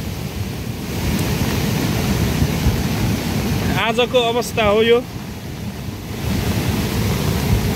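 The Sardu river in flood after a night of heavy rain, its rushing water a loud, steady roar with wind buffeting the microphone. Someone briefly speaks over it partway through.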